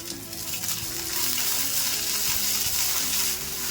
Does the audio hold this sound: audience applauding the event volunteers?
no